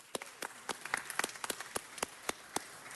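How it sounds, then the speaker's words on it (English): Sparse, scattered handclaps from a small audience at a downtown Los Angeles city council meeting, greeting Grand Performances, a nonprofit presenting free global performing arts; individual claps ring out irregularly, fairly faint, with no talk. "Let's give them a big round of applause."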